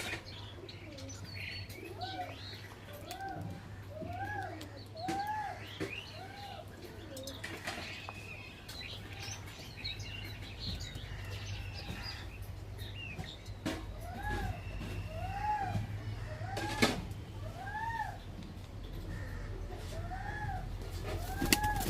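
Kaldum pigeons coo repeatedly in soft, rolling phrases from fairly close by, with faint chirps, occasional wing flaps and a low steady hum underneath.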